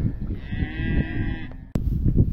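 Cattle in a grazing pasture give a long, loud, drawn-out moo close by, followed after a brief gap by another bellow, over steady outdoor background noise.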